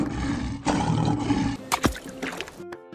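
A toy lion lets out a loud electronic roar that surges and rumbles for a couple of seconds, then breaks into shorter growling bursts with some rustling of the toy. No one speaks over it.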